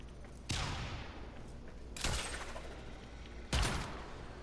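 Zenith rifle firing in the video game Warframe: three loud, sharp gunshots about one and a half seconds apart, each with a decaying tail, over a steady low background hum.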